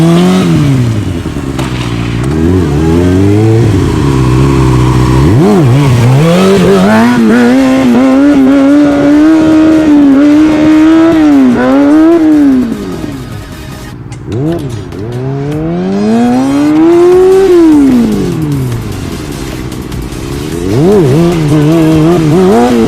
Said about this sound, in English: Now I'm going to show you what it looks like to ride a wheelie with very little brake